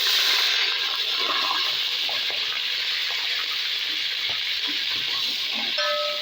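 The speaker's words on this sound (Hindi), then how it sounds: "अब इसमें पानी डालेंगे।" Steady hiss and sizzle of water poured into a hot cooking pot of golden fried onions for chana pulao, continuous and fairly close, with faint clinks near the end.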